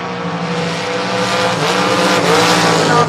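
Roaring drag-racing engine noise, loud and sustained, from a Chevrolet Nova at a strip, steady harmonic drone with a slight swell near the end.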